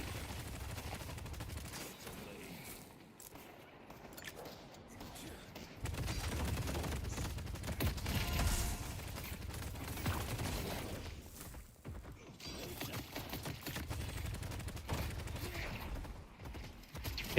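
Gunfire in the video game Deadlock, a rapid, continuous stream of shots with swelling booms and mechanical noise running through the whole stretch at moderate level, with brief voices under it.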